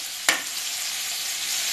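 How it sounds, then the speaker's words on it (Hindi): Rajma aloo with tomatoes and spices sizzles in a pan, a single scrape of stirring followed by a steady close frying hiss. "टमाटर भी डाल देंगे और थोड़ी देर हम इसको चलाएंगे।"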